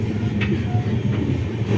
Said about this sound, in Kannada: ನನಗೆ ರೈಲ್ವೇಲಿ ಮಧ್ಯದಲ್ಲಿ ಇರುತ್ತಲ್ಲ ಅಟ್ಯಾಚ್ಮೆಂಟು, ಇದು ಅಲ್ಲಾಡೋವಾಗೂ ಭಯ ಆಗುತ್ತೆ